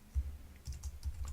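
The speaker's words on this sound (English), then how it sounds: "I'm going to type some text." Keys on a computer keyboard are tapped in a quick, uneven run of soft, close clicks, fairly faint against a quiet room.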